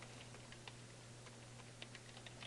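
Quiet, irregular clicking of keys on a computer keyboard over a low steady hum, with no talking.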